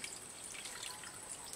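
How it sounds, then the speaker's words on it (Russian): Water poured from a tap or jug onto chopped zucchini and bananas in a kitchen, a soft, steady trickle and splash heard close with no talk. "И заливаем граммами 100 воды."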